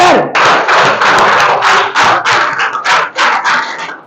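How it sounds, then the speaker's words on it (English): An audience applauds an award winner at a prize ceremony for best speaker, with loud, close, sustained clapping in steady bursts and no talking. "Have a best clap for her."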